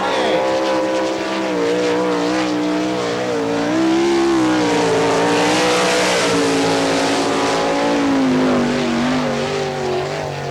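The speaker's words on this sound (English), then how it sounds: "On the Speedway now, driving the number 28 car out of Mechanicsburg, Pennsylvania." Loud, continuous engine roar of an NCRA All Stars race car lapping a Kansas speedway at Wichita, its pitch rising and falling in waves through the corners and straights for the whole stretch.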